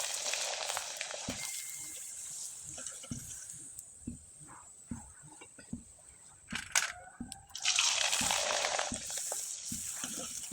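Flower pitha, a light patterned Bengali fritter, frying in hot oil: a steady crackling sizzle with scattered pops and stirring clatter, swelling louder near the end as fresh batter hits the oil.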